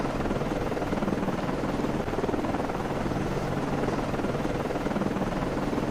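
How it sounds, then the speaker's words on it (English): A helicopter launches off a destroyer in a Cold War modern naval combat sim, its rotor thrum steady, loud and continuous throughout with no talk over it. "Con, FLYCO, aircraft is in the air."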